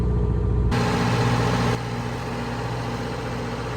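The engine of a 94-foot Broward motor yacht running in its engine room, a loud, steady, droning mechanical roar with strong low hum and tonal whine, shifting in level partway through and continuing with no talk.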